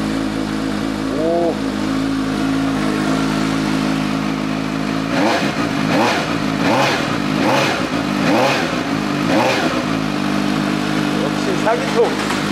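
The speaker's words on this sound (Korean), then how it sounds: "역시 사기통" A Suzuki GSX-S750 four-cylinder motorcycle engine idles close by, then is blipped through about six sharp rev bursts before settling back to idle, with a person talking over it.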